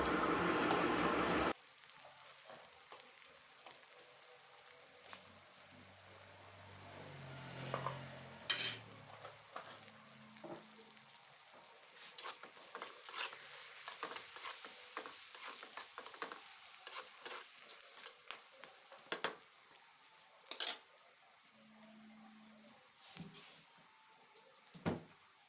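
Onions frying in a pan with salt and turmeric added, for a grandma-style chicken curry, stirred repeatedly. Steady soft sizzle with scraping stirs and occasional louder clinks, close and without talk.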